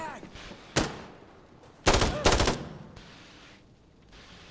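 Insurgency: Sandstorm firefight with a drum-magazine gun: a single sharp shot, then a quick pair of loud close bursts, with faint game ambience between.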